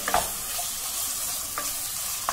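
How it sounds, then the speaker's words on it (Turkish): Lean minced meat and onions frying together in a pan for a cauliflower moussaka, with a steady broadband sizzle and a few brief spoon scrapes and stirs scattered through it. "Soğanla kıymayı beraber kavurduktan sonra diğer malzemelerimizi katacağız."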